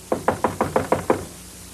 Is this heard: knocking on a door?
yes